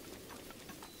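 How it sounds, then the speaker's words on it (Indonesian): Rain falling in the Zelda: Breath of the Wild video game, a steady hiss of rainfall heard briefly and alone. "Ya ampun, sudah hujan lagi, teman-teman."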